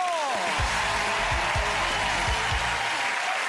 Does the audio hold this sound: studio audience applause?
yes